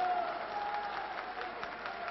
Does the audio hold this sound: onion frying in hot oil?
no